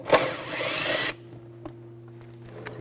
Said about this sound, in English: We're going to take these two bolts out, use a 10mm socket.